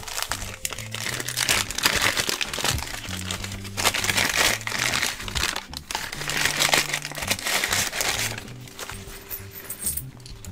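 A big tin foil package from a mail parcel being unwrapped, loud close crinkling and crumpling in irregular bursts over a low background of musical tones.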